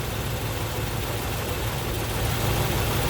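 A Mercedes 450SL engine idles steadily with all cylinders firing evenly, a continuous low rumbling drone heard close and alone.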